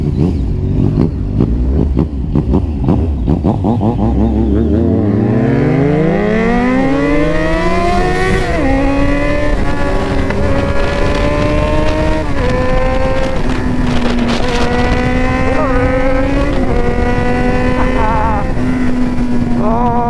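A Yamaha MT-09 and an XJ6 ride through London streets on a summer evening, heard from the rider's seat. The engine roar is loud and close, climbing steadily in pitch as the bike accelerates and then holding a high, buzzing drone.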